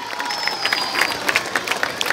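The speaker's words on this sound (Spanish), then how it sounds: "Vamos a darles un fuerte aplauso a mis amigos." Steady applause and crowd noise fill a live comedy show in Puerto Salgar, Cundinamarca, with scattered claps and cheers sustained throughout and no voice over it.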